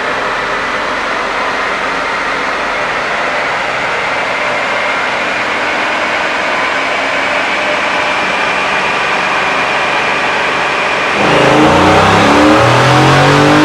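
Supercharged 2023 Ford F-150 short-bed 4WD truck, lowered and built by Recoil Racing, revving hard on a dyno: a loud, sustained engine roar climbing steadily, then shifting to a throatier rumble near the end, no talk.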